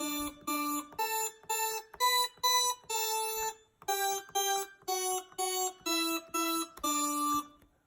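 A musical scale of separate tonal notes plays alone, about a dozen clean, evenly paced steps with short gaps between them, rising and shifting in pitch, the final note held a little longer.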